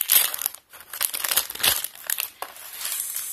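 Plastic packaging crinkles and crackles close by as it is torn and pulled open during a haul of Disney tableware and beauty products, with a continuous busy rustle and brief pauses.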